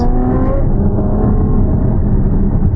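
A Ferrari F12 Berlinetta's engine and exhaust drone loudly and steadily up close, with a rich, even tone and no pauses.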